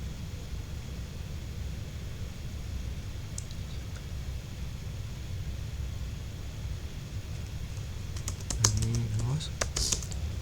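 Quick bursts of keystrokes on a computer keyboard, fairly close and soft, over a steady hum of room noise, with a brief flurry of several taps near the end.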